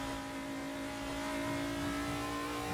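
Car engine in Assetto Corsa, a modded car at Phillip Island: a steady, sustained engine drone with strong tonal harmonics, moderately loud and continuous, with no talk over it.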